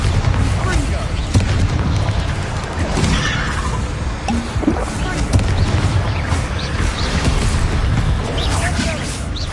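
A Bombarda spell blasts in Hogwarts Legacy, booming explosions and crashes within dense combat noise, with a shouted voice over the loud, continuous clash.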